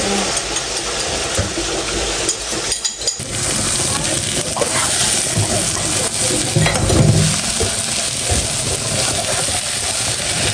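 An egg fries in a hot pan with a dense, continuous sizzle and crackle, close and loud, with some faint clatter in the background.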